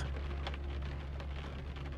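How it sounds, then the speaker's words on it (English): Soft, unhurried rain pattering against a window, a quiet steady wash with scattered droplet taps and a low rumble underneath, heard alone without speech. "The rain falls against the window in its own unhurried rhythm."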